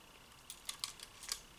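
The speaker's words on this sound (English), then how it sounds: "it winds and the shutter works like that." Film advance and shutter release on a vintage Nikon S2 or Canon II D rangefinder camera, a quick run of faint, crisp mechanical clicks close up in a quiet room.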